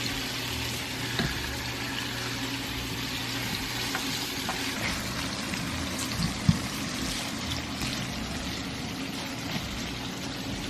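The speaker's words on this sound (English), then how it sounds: "This is the garlic I'm stir frying first" Steady, dense sizzling of garlic frying in a hot pan, with faint stirring scrapes and a small clatter near the middle, no talking.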